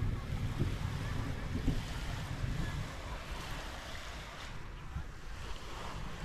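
Steady rushing surf of ocean waves washing ashore on a Zambales beach in the afternoon, mixed with gusty wind buffeting the microphone, continuous and moderately loud with no voices.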